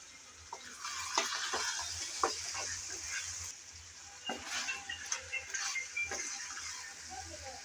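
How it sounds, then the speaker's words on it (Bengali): Spicy mutton being stirred and slow-fried in a pan, with a soft steady sizzle and intermittent scraping clicks of a spoon against the metal, close and fairly quiet. "আমি এখন আবারও নেড়ে চেড়ে ভালোভাবে একটু কষিয়ে নেওয়ার জন্য আসলাম"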